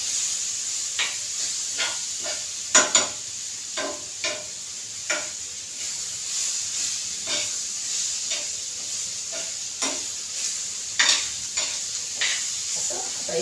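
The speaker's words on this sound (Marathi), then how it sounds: "कांदा फक्त मऊ करायचं आहे करपवायचं नाही" Onion fries on a hot griddle for a homestyle paneer curry, with a steady close sizzle and repeated sharp scrapes and clacks of a spatula stirring at an uneven rhythm, and no voices.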